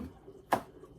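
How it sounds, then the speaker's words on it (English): A single crisp knife cut through garlic on a board, one short close tap-like slice in an otherwise quiet moment. "I'm gonna start with my garlic first. You can cut the garlic any way you want to cut it."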